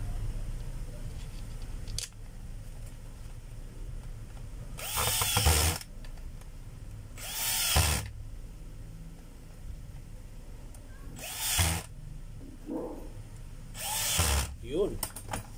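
Short bursts of a power screwdriver driving screws into the front housing of a DeWalt D25032 rotary hammer, four separate whirring runs with quiet handling and clicks between them.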